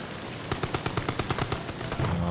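Gunfire in the video game Amnesia: The Bunker as a barrel is shot: a quick burst of about a dozen sharp, evenly spaced shots rings out loud and close, then a low rumble follows.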